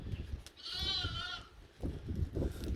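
Goats bleat in a farm pen beside a fenced sheep area on a Bahamas farm, one clear, wavering call standing out over a low rustle of livestock and a faint second voice, close and distinct.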